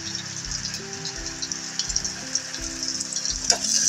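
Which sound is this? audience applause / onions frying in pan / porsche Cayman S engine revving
onions frying in pan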